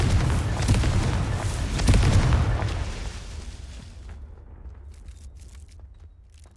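A Confringo spell explodes in the Hogwarts Legacy video game with a loud low boom and crackling burst that swells for about two seconds, then fades into a quieter rumbling tail with light scattered effects.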